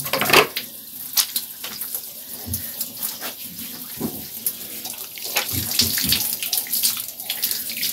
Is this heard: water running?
yes